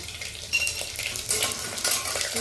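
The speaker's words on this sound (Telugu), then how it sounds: "కొంచెం ఎల్లుల్లిపాయ కూడా యాడ్ చేసుకుంటాను." Curry leaves and garlic fry in hot oil in a pan, a steady close sizzle broken by stirring scrapes and light clinks against the cookware, with no talk.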